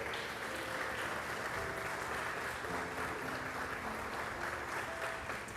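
A church congregation applauding during a worship service, a dense continuous wash of clapping with sustained musical tones beneath, steady and moderately distant throughout.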